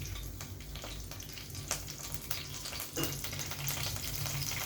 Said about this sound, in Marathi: त्याच तेलात मी जिरं आणि कढीपत्ता फोडणीला टाकत आहे